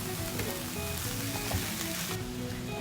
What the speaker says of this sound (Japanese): 野菜に火が通ってきたらひき肉を入れます。